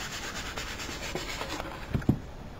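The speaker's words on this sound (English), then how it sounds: "So I'm going to sand this really good." Sandpaper scrubs across the top of a tin can in steady back-and-forth strokes, a close, dry rasping rub that ends with a couple of sharper knocks.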